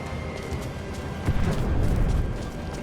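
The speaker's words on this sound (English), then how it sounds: "it's just random fucking explosions" Low rumbling booms in Rise of the Tomb Raider ruins, a muffled continuous roar with a heavier blast swelling about midway, fairly quiet and without speech.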